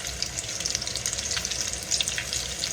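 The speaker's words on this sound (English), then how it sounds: "so while those are frying" Continuous bright sizzling of fried pies frying in hot oil in a pan, close and steady, with small crackles and pops throughout.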